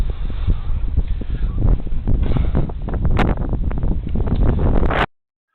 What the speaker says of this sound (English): It was extremely windy this day